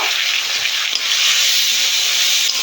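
Ground onion paste frying in a pan, giving a dense, continuous hiss of hot oil that stays close and fairly loud and barely shifts over the short stretch, with no voice over it.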